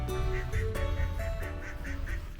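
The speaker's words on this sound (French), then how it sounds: "Petite découverte, pendant que je rejoins Juju, il y a des canards." Several ducks quack in short repeated bursts, fairly near, beside a coastal walking route on the Côte d'Opale between Boulogne-sur-Mer and Calais, with soft ambient noise underneath.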